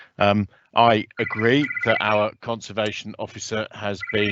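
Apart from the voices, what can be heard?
phone ringing in the background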